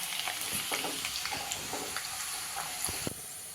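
Noodles deep-fry in hot oil with a continuous bubbling sizzle, broken by scattered crackles and pops and a few faint clinks from turning them.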